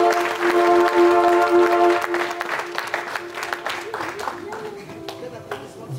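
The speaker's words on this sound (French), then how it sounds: "je vais d'abord demander si vous pouvez applaudir pour vous-même." A congregation at a church thanksgiving service claps for itself, dense applause at first that thins into looser, scattered clapping while musical tones and a voice continue underneath.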